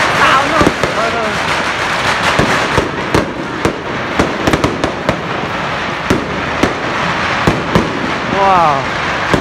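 Fireworks going off in a Chinese town during Lantern Festival celebrations, with a dense, continuous crackle and many sharp bangs, some whistling rockets rising, loud and close, and people talking in the background.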